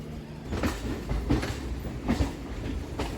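A Kolkata circular railway train runs along the tracks, its wheels beating out a clear, regular clickety-clack over rail joints beneath a steady rolling rumble, heard from on board with no talk.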